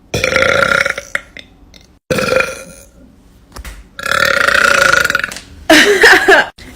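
A woman lets out several loud, close, drawn-out burps on command, separated by brief silences, the last one rough and gurgling.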